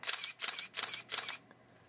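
A Canon Digital Rebel XTi firing in continuous mode at 3.5 frames per second, four crisp shutter clacks in quick, even succession, close and distinct, then silence.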